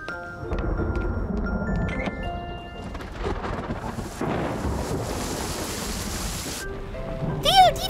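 Steady rain hisses throughout with low rumbling thunder underneath, and a brief tonal sweep near the end.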